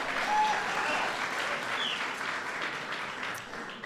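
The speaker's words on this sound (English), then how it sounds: "That's worth applauding." A large audience at a Cinco de Mayo speech breaks into sustained applause, a dense wash of clapping that holds steady and fades slightly toward the end.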